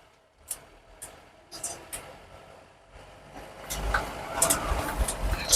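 A Mahindra Bolero's engine hums low during a test drive, starting faint and building into a louder rumble with road noise, with a few sharp clicks and knocks scattered throughout.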